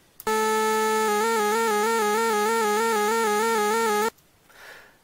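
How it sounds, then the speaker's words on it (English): A buzzy synthesized Protracker note whose pitch jumps abruptly back and forth between two levels in a regular square-wave vibrato, held for a few seconds before stopping. "An E42 means square wave, and it sounds like this."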